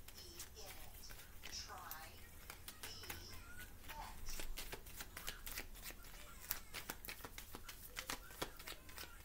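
Tarot cards being shuffled and handled, rapid irregular crisp slaps and riffles in quick succession, close and fairly quiet, with a person speaking softly in between.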